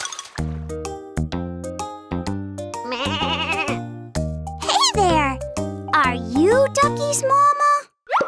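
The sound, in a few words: sheep bleating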